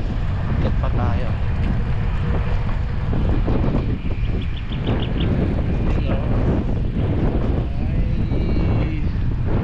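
Strong wind buffets an outdoor microphone in Vermosa, Daang Hari, Imus, Cavite, a loud steady rumbling roar that fills the whole clip, while a person talks beneath it.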